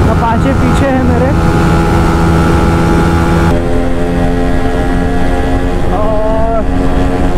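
Yamaha MT-15 and TVS Apache RTR 200 4V motorcycles racing, one closely slipstreaming the other, engines droning loudly with rising and falling revs and wind rush throughout.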